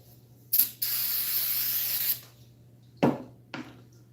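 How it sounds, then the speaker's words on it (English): Carburetor cleaner sprays from an aerosol can outdoors in two bursts: a sharp hiss lasting about a second and a half, then a short puff after a pause, with rattles and clicks between, close and fairly loud. "Probably should wear a respirator with your spraying carburetor cleaner out in the air."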